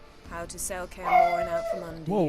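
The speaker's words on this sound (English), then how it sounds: "that's my dog barking" A pet dog barks and yips in the background while a Witcher 3 character voice talks over it. The barks are short and partly masked by the speech.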